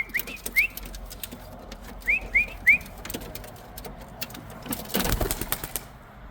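A racing pigeon returns to its home loft after a 246 km race from Cape Campbell, giving short whistling chirps in small bursts, followed by a brief burst of fluttering wing noise near the end.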